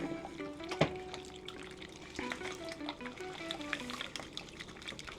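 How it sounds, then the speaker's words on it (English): Crab cake mixture is stirred in a bowl, giving soft wet squelching and scraping with scattered clinks of a utensil against the bowl, close and quiet, with a sharper knock early on and no talking. "Mix all that up"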